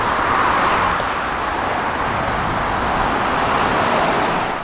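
Steady, loud roar of highway traffic heard from inside a moving car, a continuous broadband rush of tires and engines with no breaks, as rain begins to fall.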